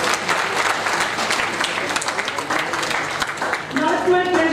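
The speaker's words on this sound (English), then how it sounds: "Please give a huge round of applause" Conference audience applauds in a dense, steady burst of clapping, with a voice starting to speak over the hands near the end.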